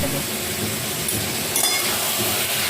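Chicken pieces tipped into hot spiced oil for a Bengali red chicken curry, a steady dense sizzle with a faint clink of a utensil partway through.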